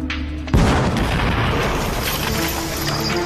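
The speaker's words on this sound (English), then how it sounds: "Again, the explosion rocks the quarry." A replica medieval bombard cannon fires in a quarry, giving one sudden loud boom about half a second in, followed by a long, heavy rumbling roar that fades slowly.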